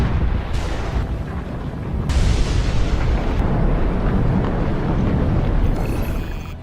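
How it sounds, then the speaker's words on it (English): Deep rumbling booms from the Hunga Tonga underwater volcano eruption, a continuous heavy low roar with abrupt swells, loud and sustained without any voices. "The Hunga Tonga underwater volcano abruptly woke up from its sound sleep"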